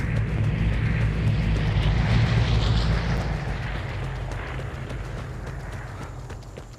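A plane flies over for an airdrop in the video game Vigor. It makes a loud, steady, broad roar that is strongest early on and then slowly fades as it passes, with a few faint ticks underneath.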